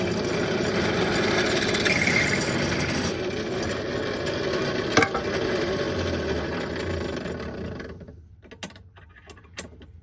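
A power drill bores into a guitar amplifier chassis with a loud, continuous motor whine for about eight seconds, then stops, leaving a few sharp metallic clicks and taps.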